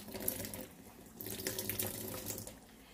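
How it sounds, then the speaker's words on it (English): Water squeezed out of cooked, wrapped cabbage leaves for cabbage rolls, a soft continuous trickle and splash into a bowl in two bursts, close and fairly quiet, without talk. "we're going to squeeze some of the water out of it"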